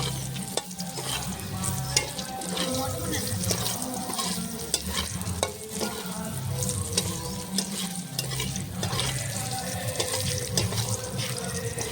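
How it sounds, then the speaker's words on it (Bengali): Lentil dumplings (masoor dal bori) frying in oil for a rui fish curry with cauliflower, a loud continuous crackle with busy popping and stirring scrapes throughout. "বড়িটা এখন ভেজে নেব তেলে"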